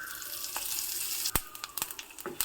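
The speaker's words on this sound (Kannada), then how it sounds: "ಒಗ್ಗರಣೆ ಆಯಿತು" A tempering of dry red chili, curry leaves, ajwain, asafoetida and turmeric sizzles in hot oil with a steady frying hiss broken by several sharp pops and crackles, close by and without talk.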